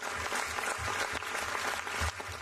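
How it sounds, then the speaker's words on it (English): Brief burst of applause marking the start of Ukraine's EU membership talks, a steady clatter of many hands clapping with a low rumble beneath. "A round of applause celebrated a historical and long-awaited day for Ukraine."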